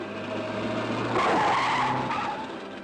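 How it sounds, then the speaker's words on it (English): A car in a 1962 comedy skids to an abrupt stop, tyres squealing briefly over the engine hum, a sharp scrub rising and fading within a couple of seconds, fairly close. "That's an awful stop, Willie Ward."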